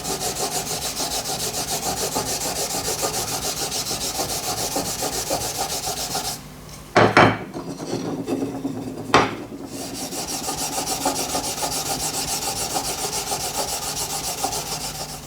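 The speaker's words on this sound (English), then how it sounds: "So I'm just going to use steel wool and just give that a scrub" Steel wool scrubs the wooden handle of a cast brass machinist hammer in a loud, continuous rasping rub close by. A brief pause near the middle breaks it, and then the scrubbing carries on steadily.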